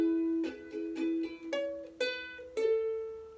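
Ukulele picking the first two bars of a song's melody, a handful of clear single plucked notes on the beat, rising in pitch toward the end, quiet and close with no talking.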